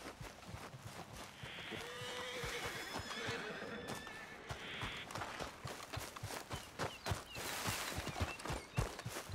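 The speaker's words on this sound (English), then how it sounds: "What's got this horse spook, huh?" Horse neighing and whinnying in the video game Red Dead Redemption 2, mixed with clip-clopping hooves and a busy outdoor soundscape, with people talking in the background.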